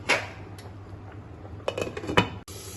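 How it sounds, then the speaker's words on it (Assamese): A metal lid is set onto a pot of fish curry with bamboo shoot and colocasia, giving a few light clinks and clatters against a steady low hum, with a brief knock near the end. "এবাৰ উতলিবৰ কাৰণে ঢাকনটো লগাই দিম।"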